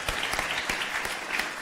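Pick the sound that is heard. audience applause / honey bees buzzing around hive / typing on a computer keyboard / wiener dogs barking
audience applause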